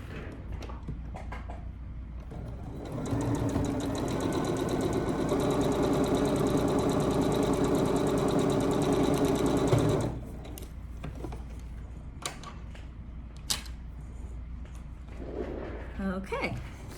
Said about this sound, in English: now I'm going to sew on my line between A1 and A4